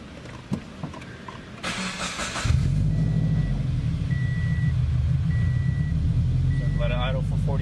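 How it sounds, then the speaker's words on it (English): Subaru BRZ fitted with UEL headers and an OFT tune cranks and catches, then settles into a loud, steady low rumble at idle, with a few chime beeps overhead and people talking nearby. "start engine, and let idle for 45 seconds before driving"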